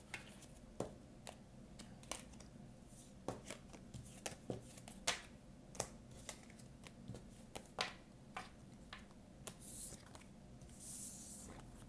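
Oracle cards are shuffled close by in quick, soft riffles and taps that repeat at an uneven pace, fairly quiet, with no talking.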